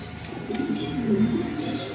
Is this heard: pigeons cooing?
yes